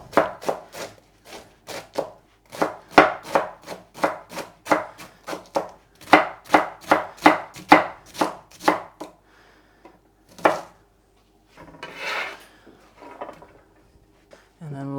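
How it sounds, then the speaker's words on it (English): A knife chops cabbage finely on a board in a quick run of crisp, evenly spaced strokes, pausing briefly before a few scattered kitchen knocks and rustles. "And then the rest I will cut nice and fine for my stir fry."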